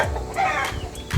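Chickens clucking in a backyard barn shed among hens and young chicks, short soft clucks and rustles close by, with a louder burst at the end.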